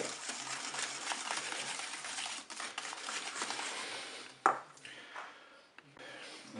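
Coconut cake batter stirred in a bowl, a steady scraping and tapping of utensil against the bowl over several seconds, with one sharp clink near the end.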